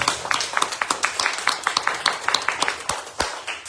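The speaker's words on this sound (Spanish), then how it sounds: "Ese aplauso, dáselo más fuerte a Dios" Steady rhythmic clapping from a church congregation during a sermon, many hands striking together in a quick repeating beat with some louder individual claps standing out, no speech.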